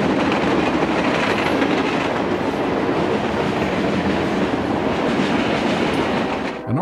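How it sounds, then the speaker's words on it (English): A northbound Norfolk Southern freight train rumbles past steadily, wheels clattering on the rails in a dense, loud roar that fades slightly at the end. "a northbound NS freight rolls by on the NS Dayton District"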